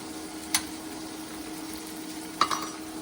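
Mustard oil tempering with chilli and turmeric sizzles in a pan, a steady low hiss with two brief sharp crackles, no talking.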